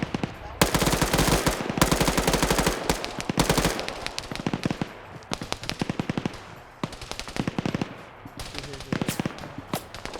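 Dense automatic gunfire in a military video game, long rapid bursts of shots sweeping down range with short gaps, loud and continuous across the whole stretch, voices faintly underneath.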